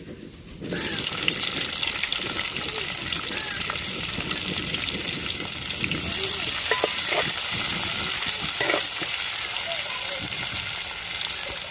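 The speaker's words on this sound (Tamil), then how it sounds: "வெங்காயம் நம்மளுக்கு நல்லாவே வதங்கிருச்சுங்க" Onions and green chillies sautéing in a hot pan with curry masala and cinnamon for a village-style mutton curry, a loud, steady sizzle starting after a quiet moment, with stirring scrapes and light clinks throughout.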